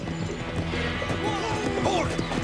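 Hooves clip-clop at a steady walking pace, close by, mixed with a continuous rumble and a brief crash of noise in the background.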